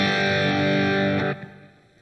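Gibson electric guitar through an overdrive with the gain raised slightly, a single thick distorted chord ringing loudly for over a second before being cut off and fading to quiet buzz.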